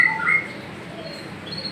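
Magpie robins (murai) kept by a bird owner in Boyolali give a few short high chirps and tweets near the start, then fainter scattered calls over a steady background hiss.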